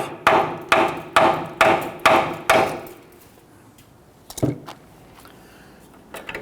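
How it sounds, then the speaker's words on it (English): Six sharp, evenly spaced metal taps on a rusted brake hose fitting of a 2005-2021 Nissan Frontier, close and loud, followed by quieter clanks. "Just kind of break some of that rust free. Go ahead and tap this a few times."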